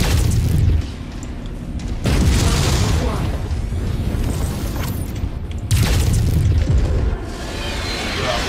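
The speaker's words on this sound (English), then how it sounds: "Ooh, artillery!" Artillery shells land in the MechWarrior 5 video game as a few heavy, booming blasts, each with a deep rumble, spaced over loud combat noise and a continuous mechanical hum.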